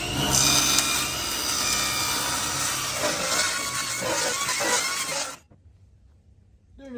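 A power saw cuts through a small section of quarter-inch plywood. The cut is loud and close, with a steady buzzing drone for about five seconds, then it stops abruptly into near silence with a faint noise at the end.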